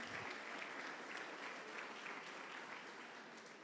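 Church congregation applauding during a morning service, a sustained, even patter of many hands clapping in a large room, slowly tapering off.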